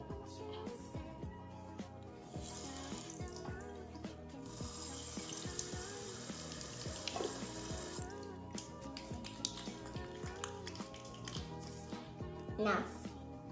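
Water runs steadily from a tap for several seconds amid faint clatter and rubbing sounds, fairly quiet and close.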